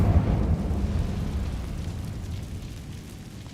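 An Incendio fire spell cast in the Hogwarts Legacy video game bursts out as a loud, deep, rumbling whoosh that hits hard at the start and then slowly fades over a few seconds.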